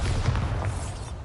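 A Bombarda spell explosion in a video game, a dense muffled boom with a rumbling low body that fills the moment and slowly fades, loud and close with no talking.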